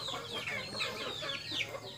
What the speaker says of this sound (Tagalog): Napo kay mga buhi nga mga manok.